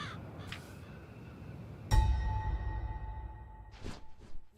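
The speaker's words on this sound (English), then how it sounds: "I want to see if I can actually befriend the local crows." Local crows caw outdoors, a few harsh calls spread across a few seconds, one loud, close caw standing out among fainter, more distant ones.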